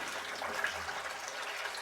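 Hot water runs steadily from a tap to soften honey, a continuous gentle gush at moderate level with no other sounds.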